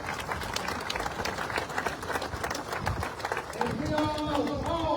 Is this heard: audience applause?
yes